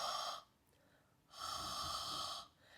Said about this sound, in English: That's why we sometimes call it ocean breath, like if you listen to a seashell, sometimes that noise